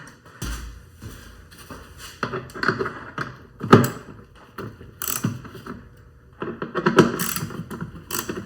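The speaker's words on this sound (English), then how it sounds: "My baby ratchet real quick." A small ratchet on a T30 fitting during battery and intake checks on a B7 car: repeated close, sharp metallic clicks in short bursts with pauses between, plus a few knocks and taps.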